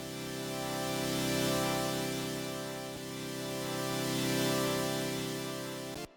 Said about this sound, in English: this synthesizer with like a volume automation